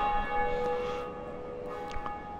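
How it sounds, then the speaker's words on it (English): A church bell in the video game Dark Souls rings with a sustained, resonant metallic tone that slowly fades, followed by a second softer strike. "Ooh, ring the bell."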